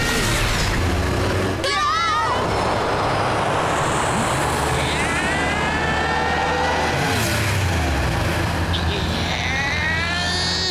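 A cartoon car's modified engine revs loudly and roars off at speed, its pitch climbing and sweeping, with brief voice sounds mixed in.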